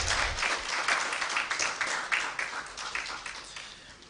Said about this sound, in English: No, please, a bigger round of applause.